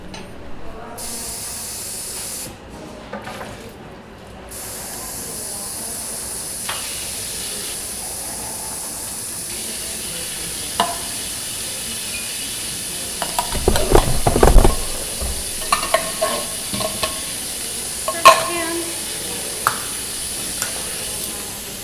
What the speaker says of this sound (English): beans, which we are going to drain and rinse before we use them